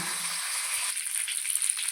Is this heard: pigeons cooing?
no